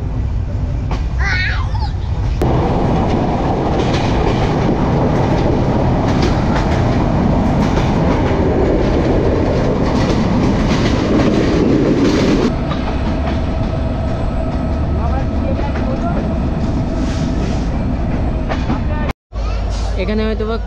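Benapole Express train running, heard from on board with a loud continuous rumble and clickety-clack as another train crosses alongside. People talk throughout, and the sound cuts out briefly near the end.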